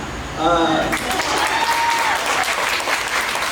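An audience at a summer showcase bursts into steady clapping, with a few voices calling out briefly at the start.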